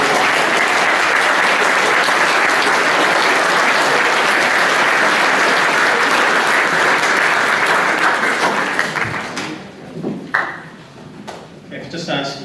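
Audience applause at a Year 10 school prize giving, a loud, steady mass of clapping for about nine seconds that then thins out into a few scattered claps and quieter room noise.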